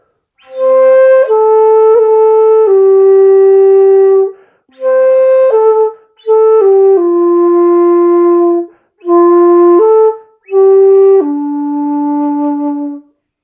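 A breathy dongxiao bamboo flute plays a slow melody of sustained notes in several phrases separated by short pauses, clear and alone.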